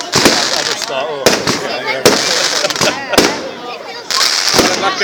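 Bonfire night fireworks burst outdoors in repeated sharp bangs at an uneven rhythm, with crackling between, while people talk close by throughout.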